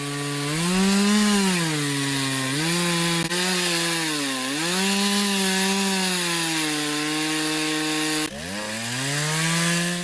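Chainsaw cross-cutting through the base of a tree trunk, a loud, continuous buzzing whine whose pitch dips and recovers as the chain bites into the wood, broken by a brief cut-off and restart.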